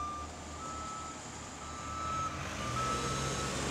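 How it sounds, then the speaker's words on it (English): Heavy road roller compacting fresh asphalt, rolling back and forth with a steady low engine rumble and repeated high reversing beeps that ring out at regular intervals. "here comes the heavy road roller. Back and forth it goes, squashing the asphalt down."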